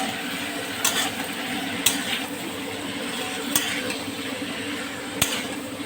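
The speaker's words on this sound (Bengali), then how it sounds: "আলু গাজর বিন টমেটো দিয়ে একটু নাড়াচাড়া করব আবার চার মিনিট এইভাবে একটু কষবে" Vegetables (potatoes, carrots, beans and tomatoes) being stirred in a cooking pot for chicken stew, with a steady low sizzle and a few sharp utensil clinks against the pot at intervals.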